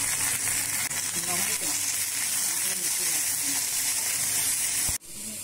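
Vallarai keerai greens sauté in a hot pan with a loud, steady hiss and crackle that runs unbroken until a sudden cutoff near the end, with a voice faintly talking beneath the sizzle.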